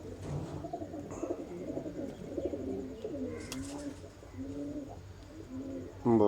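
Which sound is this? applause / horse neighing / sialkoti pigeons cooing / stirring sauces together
sialkoti pigeons cooing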